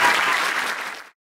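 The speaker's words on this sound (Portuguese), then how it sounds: "uma grande salva de palmas" A short burst of crowd applause at a Catholic Marian service, many hands clapping together, then cutting off abruptly.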